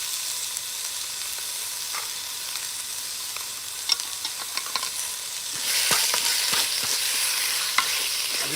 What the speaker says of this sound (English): We'll fry that chicken off. Oh, the sizzle.